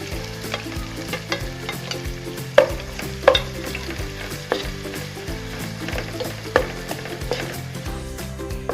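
Onion frying with cloves and cardamom in oil for chicken kabsa: a steady close sizzle with occasional sharp scrapes and clinks of a spoon stirring the pan.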